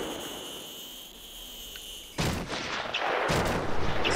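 Gunfire in the video game Batman: Arkham Asylum breaks out suddenly after a quiet, humming stretch, turning into loud, rapid bursts of shots that keep going to the end.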